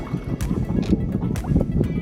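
Gentle splashing of oars dipping into calm water at a steady rhythm, with soft wind noise and lapping water around a small rowing boat on Lake Bled.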